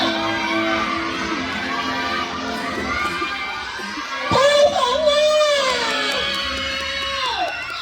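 A crowd cheering and shouting at an event where finalists and a first-place winner are announced, loud and sustained with many overlapping voices and whoops, swelling partway through.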